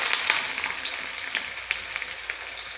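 Onion, three garlic cloves and a green chili frying in tempered oil for an egg roll, giving a soft, steady sizzle with faint crackles throughout.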